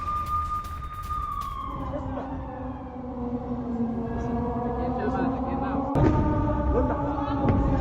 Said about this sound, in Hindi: सायरन बज रहे हैं, आप लोग शेल्टर लीजिए